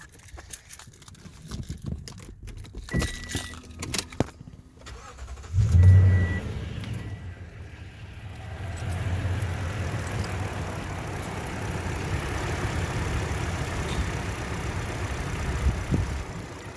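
2014 Toyota Tundra Platinum 4X4 with a 5.7 V8 cranking and firing up after some rustling and clicks, then settling into a steady, quiet, low idle heard up close.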